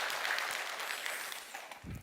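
Congregation applauding in a church after a praise song, a steady wash of many hands clapping, moderately distant and fairly soft, continuing throughout.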